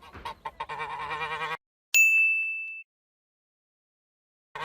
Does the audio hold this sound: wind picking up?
no